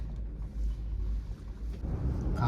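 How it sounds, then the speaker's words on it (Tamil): Strong wind buffets the microphone at the Langkawi Sky Bridge cable car, a close, constant low rumble with gusty surges over the short stretch. "வேறு லெவலில் காற்று அடிக்குது"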